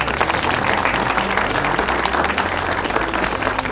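Applause during a Ramadan special quiz show: dense, continuous clapping from a group at close range, steady and loud for the few seconds heard.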